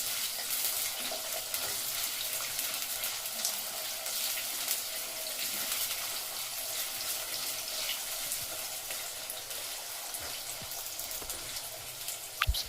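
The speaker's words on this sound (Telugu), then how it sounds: "ఆవాలు వేగుతున్నాయి ఆలుగడ్డ ముక్కలు పచ్చిమిర్చి ముక్కలు ఇవి బాగా ఫ్రై చేయాలి" Mustard seeds, potato pieces and green chillies fry in hot oil for aloo rice, giving a steady, dense sizzle with scattered small crackles and pops throughout, close and continuous with no talking.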